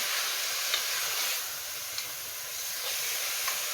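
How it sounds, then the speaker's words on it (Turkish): Meat sautéing in a pan for an okra and meat stew, a steady close hiss and sizzle with no talk. "Etimi güzelce kavurmaya bekliyorum arkadaşlar."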